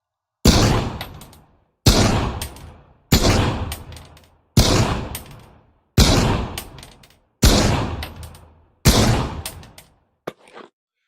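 Seven heavy Desert Eagle handgun shots in the VR shooter Pavlov, each a sharp loud bang with a decaying ring, spaced roughly evenly about every 1.3 seconds, followed by a faint mechanical click at the end.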